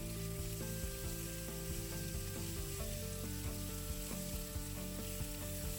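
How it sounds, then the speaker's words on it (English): Pork frying in a pan for omu-soba gives off a steady, even sizzle that runs under melodic background music throughout. "Let's take out the vegetable once and fry the pork."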